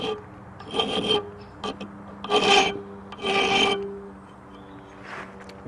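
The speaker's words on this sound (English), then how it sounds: "So if we put it in the vise, we can try filing it for a start" A heat-softened steel file clamped in a vise is worked with another file: several rasping strokes of varying length, loud and close, with short pauses between them.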